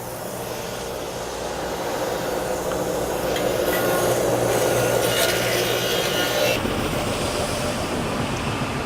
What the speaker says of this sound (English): But now I'm going to turn it the rest of the way and keep sanding the other 3 through